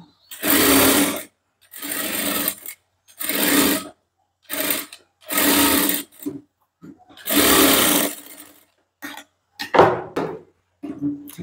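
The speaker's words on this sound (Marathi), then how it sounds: "या ठिकाणी आता आपल्याला कडेने शिलाई देऊन घ्यायची आहे." A sewing machine stitches along the side of a blouse in several loud bursts of whirring, separated by short pauses, and close at hand.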